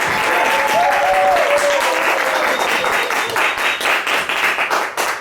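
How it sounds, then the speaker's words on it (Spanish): A live audience at a storytelling event breaks into loud, close applause, with brief vocal cries over the clapping before it thins into scattered claps. "¡Fuerte aplauso!"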